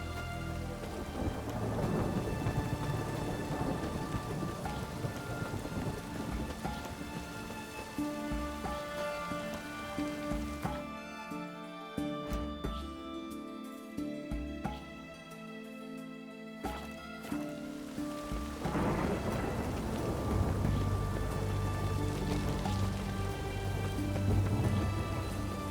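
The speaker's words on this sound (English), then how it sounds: "A storm, damn it." A thunderstorm in The Witcher 3 brings steady heavy rain and rolling thunder. The downpour hisses continuously, deep rumbles swell and fade, and the storm briefly drops out midway before returning with no one talking.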